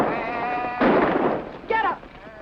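A sheep on a Texas ranch gives a wavering bleat, cut into by a sudden loud, harsh burst of noise, with voices around it.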